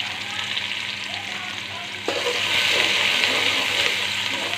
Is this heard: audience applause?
no